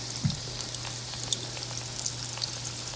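Donut fries crackle and sizzle in hot oil, a close, steady frying hiss dotted with sharp pops, with no voices.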